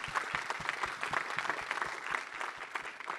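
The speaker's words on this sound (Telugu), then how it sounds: "first big round of applause for this" Applause from the audience at a film press meet, a steady burst of many hands clapping close by, continuous and dense for a few seconds with no talk over it.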